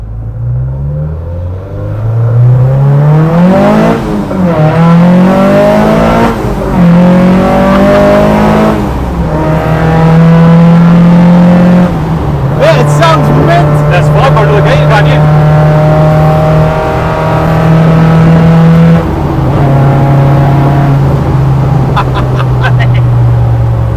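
A Mk2 Ford Escort van with a Focus ST engine revs up and settles repeatedly, its throaty exhaust note rising and falling, with people talking over it.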